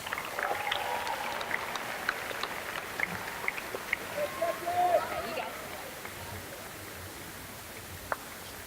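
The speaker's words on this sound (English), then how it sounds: "If you could all give them a round of applause." An audience at a 2017 Mississippi Healthy Teens rally applauds in a steady wash of clapping and crowd noise that swells briefly midway, then settles into a fainter, even patter with scattered voices underneath.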